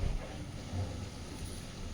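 Strong wind blows outdoors as a steady, close, rumbling roar in the microphone, with no breaks across the short stretch.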